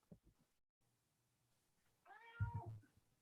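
A pet cat meows once in the background, a single drawn-out call of moderate loudness rising near the end, after a stretch of quiet room noise and a few faint low thumps.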